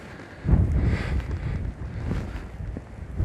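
Strong gusts of wind during a sea storm on a sandy beach in Anapa buffet the microphone with heavy, uneven rumbling roars that rise and ease over a few seconds.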